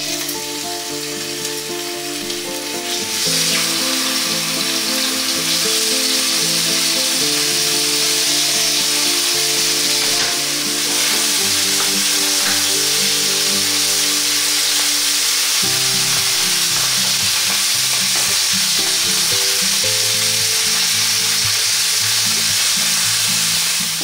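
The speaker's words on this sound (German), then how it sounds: "geben sie in die heiße Pfanne, weil wir werden sie richtig kross anbraten, diese Hähnchenbrustfilets." Chicken breast fillets sear in a hot pan with a loud, continuous sizzle and crackle, joined by occasional scraping of stirring, close up and steady for a long stretch without speech.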